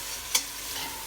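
Onions fry in oil while a spatula scrapes through them once with a brief sharp clatter, over a faint steady sizzle, close and quiet, with no talking.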